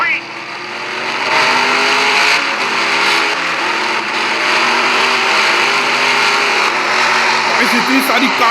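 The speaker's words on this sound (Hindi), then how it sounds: "Guys, इतनी सारी कारें." Stock cars roar together in a loud, sustained engine drone that swells during the race start, with a crowd or commentator voice faintly mixed in.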